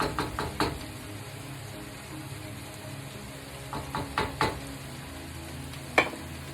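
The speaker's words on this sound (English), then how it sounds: "Sizzling away here." Vegan sesame chicken in Panda Express Mandarin teriyaki sauce fries in a stir-fry pan with a steady, soft sizzle, broken by several clinks and knocks of a utensil stirring against the pan.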